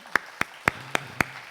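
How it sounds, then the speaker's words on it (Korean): Handclaps during a church service come as five sharp, evenly spaced claps in quick succession, close and crisp, over a quiet background with a faint low hum. "박수."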